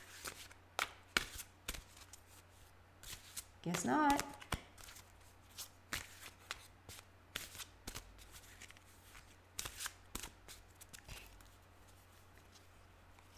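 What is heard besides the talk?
shuffling tarot cards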